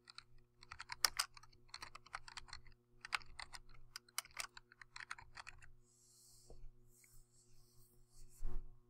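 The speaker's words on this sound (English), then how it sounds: "press the Enter key once and type the due date or the date the paper was written" Typing on a computer keyboard, bursts of quick clicking keystrokes in uneven clusters, close and clear, pausing before a few final isolated taps.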